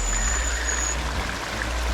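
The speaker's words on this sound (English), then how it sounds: "Make the river cool it down." River stream flowing steadily at close range, a continuous rushing and trickling wash of water with a low rumble beneath, alone without talk.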